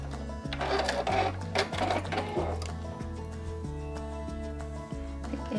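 A sewing machine stitches a fabric pouch, its needle running in a fast even hum broken by brief stops and restarts, close and fairly quiet with no talking.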